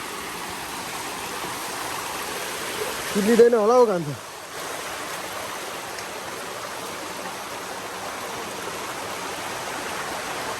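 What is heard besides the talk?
village stream flowing over rocks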